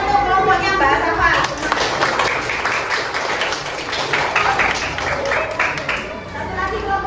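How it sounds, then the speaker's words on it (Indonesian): A classroom group applauds a student team during a teacher performance test lesson, brisk clapping from many hands filling the room, mixed with light chatter and voices throughout. "Tepuk tangan untuk kelompoknya Mbak Safa."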